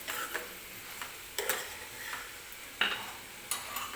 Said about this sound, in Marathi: टोमॅटोसुद्धा व्यवस्थित सॉफ्ट होईपर्यंत तेलामध्येच आपल्याला परतून घ्यायचं आहे मिरचीसोबत